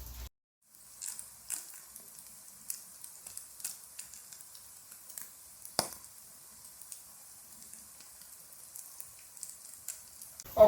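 Tuna patties browning in a frying pan give off a soft, steady sizzle with scattered light crackles and pops, fairly faint and heard alone without talk.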